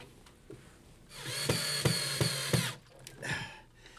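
A power drill drives a bracket screw through the top of a cabinet into a wall stud: one loud whirring run of about a second and a half with pulsing bites, then a brief shorter burst.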